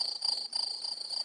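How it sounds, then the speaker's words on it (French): Crickets chirp steadily outdoors in a garden orchard in France, a continuous high trilling pulse with no talking. "Je sais pas si tu entends les grillons d'ailleurs, c'est très agréable."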